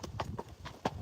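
The hooves of a Friesian horse clip-clop in a steady rhythm of five distinct, fairly faint hoofbeats in about a second, sounding against a low background hum.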